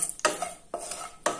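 Ingredients being stirred in oil in a pan, three sharp scraping clinks of a utensil against metal in quick succession, close and crisp, with faint sizzling beneath.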